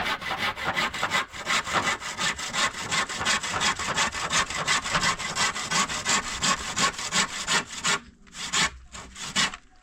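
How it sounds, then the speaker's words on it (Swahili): Rapid, rhythmic rasping strokes of a hand saw biting into wood, loud and close, with a short pause near the end before a few final strokes. "Kwanza msumeno umesikia hivi unalia"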